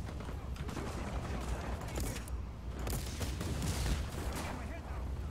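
Shotgun gunfire in the video game Just Cause 4, loud continuous blasts and explosions layered with game noise, a dense rumbling barrage lasting several seconds.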